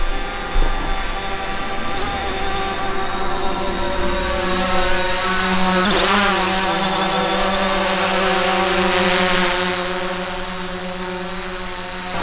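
DJI drone flying a straight Tap to Fly route, its rotors making a steady high whining buzz with shifting tones that swells as it passes close, loud and continuous throughout.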